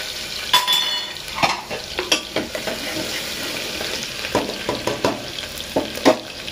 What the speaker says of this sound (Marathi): राई टाकू, राई टाकल्यानंतर आपण टाकू लसूण